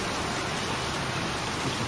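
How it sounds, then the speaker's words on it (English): Steady tropical rain pours down outdoors, a dense, even hiss of falling water with no pauses and no voices. "Just a tropical rain coming down."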